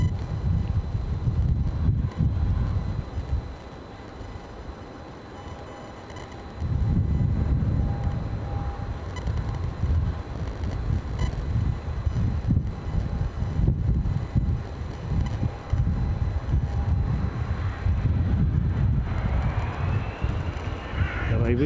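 Strong wind at Edinburgh Airport buffets the microphone with continuous low rumbling gusts, easing briefly before roaring back, while crows caw faintly in the distance.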